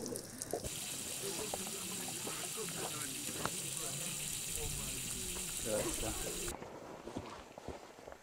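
Water splashing in a mountain stream high on Kilimanjaro, a steady broadband rush that runs evenly and fairly close, then drops away sharply near the end.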